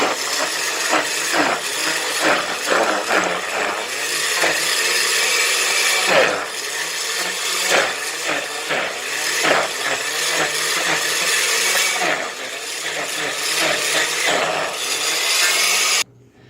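A blender churns shrimp and onion while a spoon pushes the heavy mixture down, giving a loud, continuous motor whir with gritty, irregular grinding and scraping throughout and no talking.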